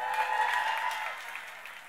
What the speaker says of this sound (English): I need people to clap for me for no apparent reason.